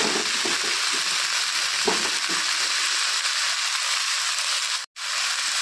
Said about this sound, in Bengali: বেগুনটা ভাজা হয়ে গেছে, এখন আমি এর মধ্যে শাকগুলো ঢেলে দিব।